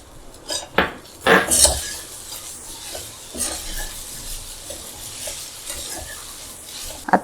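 A spoon stirs bottle gourd muthiya with coriander and coconut in a pan, giving loud metallic scrapes and clinks in irregular bursts over a soft background sizzle.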